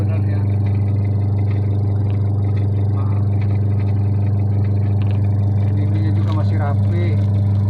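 A washing machine motor runs after being repaired, a loud steady low hum with a whirring drone held throughout, with brief scraping or clicking sounds near the end.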